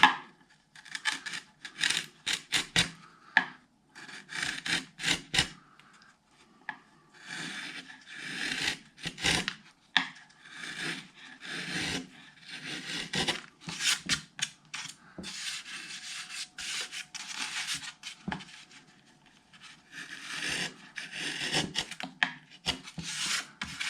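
Hand sanding of tapered braces on an acoustic guitar top, a dry rasping rub in repeated back-and-forth strokes, close and steady with brief pauses between bursts, no talk.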